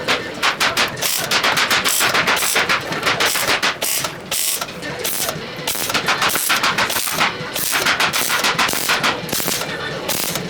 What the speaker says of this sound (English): I'm just tacking it together. This is going to be our dummy fuel tank.